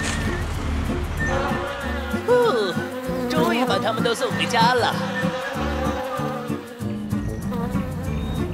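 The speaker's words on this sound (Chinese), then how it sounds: "不会是蜜蜂又来了吧？" Cartoon bees buzzing in an animated children's song about cars, wavering insect drones swooping up and down over bouncy music, with singing voices mixed in.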